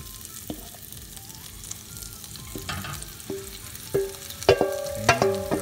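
Diced potatoes added to a pan with turmeric and stirred, giving a soft low sizzle with several sharp clinks and scrapes of a utensil against the pan, growing busier toward the end.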